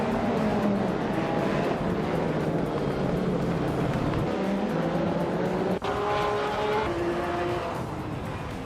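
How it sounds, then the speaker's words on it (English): A 1995 Marcos LM 600 GT race car roars through a racing video game, its engine droning steadily and shifting pitch as it runs at speed, with no talking. "Lian Yashin is driving a 1995 Marcos LM 600 GT"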